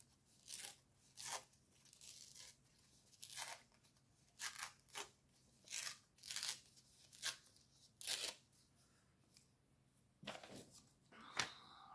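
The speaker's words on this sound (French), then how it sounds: "Peut-être le déchirer un petit peu plus." Paper torn by hand for a Halloween skeleton craft gives a quiet, close series of about a dozen short ripping strokes with brief pauses between them and no talking.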